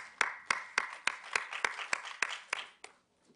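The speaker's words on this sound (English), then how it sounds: "Let's clap our hands for Mr." Audience applause at a world conference on blindness, heard as a burst of about ten sharp, rhythmic clap peaks over a wash of many hands, fading out near the end with no talking.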